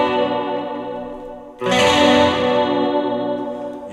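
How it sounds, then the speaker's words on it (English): Electric guitar through a Line 6 HX Stomp patch with chorus, tape echo and spring reverb but no fuzz: a sustained chord rings out, then a fresh strum at about one and a half seconds blooms loudly and decays slowly. "let's see what it sounds like without that fuzz"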